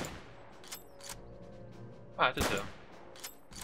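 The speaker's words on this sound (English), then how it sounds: "And now we switch back to the regular sniper rifle," Sniper rifle fire in the video game RTCW, a couple of loud sharp close shots with a few fainter reports around them, and a player briefly speaking.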